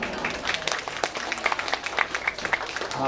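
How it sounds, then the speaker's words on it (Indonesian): Audience applause at a primary school farewell ceremony: a crowd clapping in a continuous, moderately loud patter with some sharper individual claps standing out, no voices over it. "Mungkin tepuk tangan."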